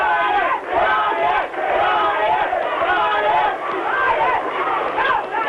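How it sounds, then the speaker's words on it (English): Boxing crowd at a title fight chanting and shouting for the two fighters, a loud, continuous roar of many voices with rhythmic rising chants and brief dips. "if you can hear what the crowd is saying, there's a very split crowd here."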